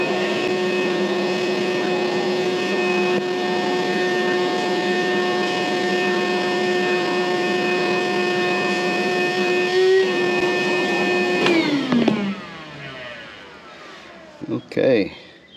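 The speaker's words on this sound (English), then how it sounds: "so I'm going to vacuum that off again" A vacuum cleaner drones steadily and loudly while sucking dirt off an RV air conditioner coil, its pitch dipping briefly before it winds down near the end and a few knocks follow.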